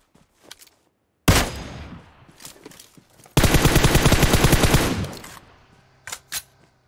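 Bursts of automatic gunfire in the mobile battle royale game PUBG Mobile: a loud sharp volley, a pause with scattered smaller sounds, then a longer sustained rapid string of shots, followed by a couple of brief distant pops.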